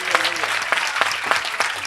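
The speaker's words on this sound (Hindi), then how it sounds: "तालियां बजा दें" An audience at an Easter message claps loudly and continuously, a dense nearby patter of many hands with regular accents and no speech over it.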